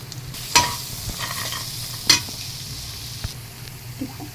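Homemade roasted spices fry in a pan with ghee, sizzling steadily while a spoon stirs, with two sharp metallic clanks of the spoon against the pan rising above the hiss.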